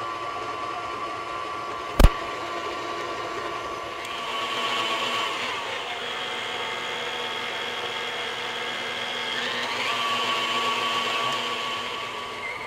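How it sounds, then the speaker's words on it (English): A stand mixer kneads pizza dough made with self-rising flour, giving a continuous mid-pitched motor whir that swells slightly at times, with a sharp click near the start and no talk. "We're gonna let this mix for 3 to 4 minutes until it pulls away from the bottom of the bowl."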